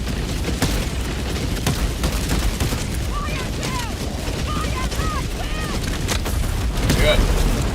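Orbital barrage explosions from a Gatling barrage in the game Helldivers 2 make a dense, continuous rumble of booms and blasts. Faint whistling sounds rise and fall over the rumble.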